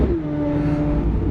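Corvette Z06 engine with aftermarket exhaust mods giving a short, loud, steady rev, a throaty droning note held for about a second, close up.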